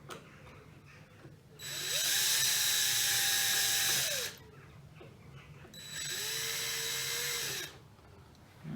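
Power drill boring out a rivet head on a Porsche Panamera 970 rear door B-pillar trim: two sustained high whining bursts of about two seconds each, close and loud, with quiet pauses between and no talk.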